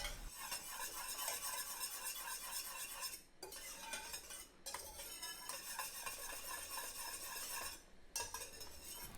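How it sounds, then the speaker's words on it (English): Simmering mimosa topping sauce whisked with a cornstarch slurry, heard as rapid, steady close whisk strokes against the pot with a light bubbling sizzle beneath, briefly pausing twice, without any talk. "Make sure to keep whisking, and once it starts to boil again, it should activate that cornstarch slurry pretty much instantaneously."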